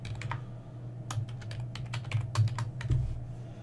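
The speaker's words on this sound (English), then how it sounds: "It's very important to type the right password." A password is typed on a computer keyboard: quiet, close key clicks in a quick irregular run over a steady low hum.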